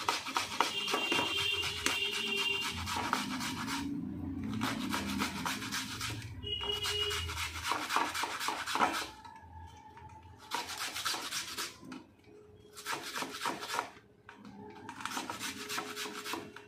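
An onion scraped back and forth on a hand grater to squeeze out its juice, rhythmic rasping strokes in several bursts with short pauses between them, close and fairly loud.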